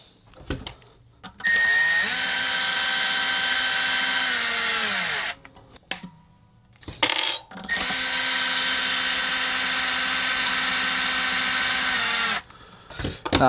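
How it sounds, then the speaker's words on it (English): A power drill winding guitar strings whirs steadily in two long bursts, each several seconds, with pitch dropping as it slows, separated by brief handling clicks. "With this drill, it's very easy to over tighten"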